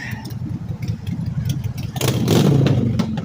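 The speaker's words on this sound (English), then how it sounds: "Lots of traffic." Busy road traffic close by, engines rumbling and passing, with a louder vehicle surging past near the end.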